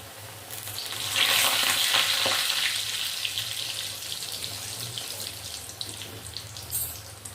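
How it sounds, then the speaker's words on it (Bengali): Coated lote fish chops fry in very hot oil in a Bengali kitchen, a loud, steady sizzle and crackle that starts abruptly and continues close throughout, with no talking. "এগুলোকে আমি এবারে আস্তে আস্তে এগুলোকে ভেজে নেব।"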